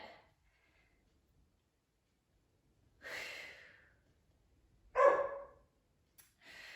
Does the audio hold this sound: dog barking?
yes